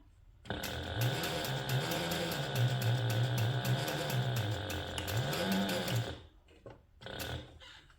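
A sewing machine stitches through the seam allowance of a handbag's exterior back bottom, running in one steady, close mechanical whir for about six seconds, with a faint brief burst of motor noise afterward.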